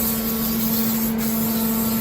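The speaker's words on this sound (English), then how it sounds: "you're going to grab your surface disinfectant and deodorant and spray it on the outside of the toilet" Surface disinfectant and deodorant sprays in a steady, continuous hiss onto the outside of a toilet in a locker room, close up and alone, with a low steady hum underneath.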